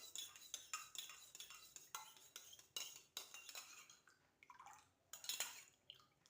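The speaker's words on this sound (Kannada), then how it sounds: "ಅದರಲ್ಲಿ ಸ್ಪೂನ್ ಕೂಡ ಚೆನ್ನಾಗಿ ಮಿಕ್ಸ್ ಮಾಡಿಬಿಟ್ಟು" A spoon clinks and scrapes against a cup while stirring warm water, making rapid, close metallic taps in an irregular rhythm with brief pauses and no talking.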